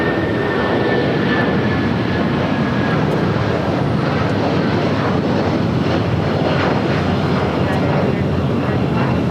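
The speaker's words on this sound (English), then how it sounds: "next takeoff is the United 757" United Airlines Boeing 757 taking off at Los Angeles International Airport, a steady broadband engine roar held at constant loudness throughout with no break, heard at a distance.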